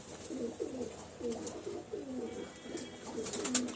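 Fulshira pigeons cooing in a loft, a steady run of soft, rolling coos repeating close by with no talk over them.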